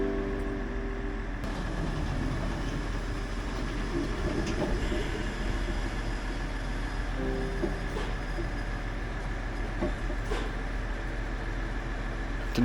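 A train on the Oigawa railway in Japan produces a steady low rumble with wheel clatter and a few sharp clicks, heard close and continuous.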